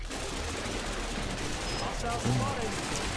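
Gunfire in the video game Cepheus Protocol: a sustained, fairly distant fusillade of overlapping shots rolls on at an even level, with a faint voice underneath.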